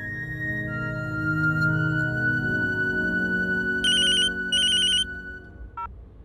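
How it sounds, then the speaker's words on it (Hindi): A mobile phone ringtone plays loudly in a Hindi TV drama scene: a steady tonal melody, then a few bright repeated bursts of a higher electronic ring, with no talk over it. "वर्षा, तू मेरा फोन क्यों नहीं उठा रही है?"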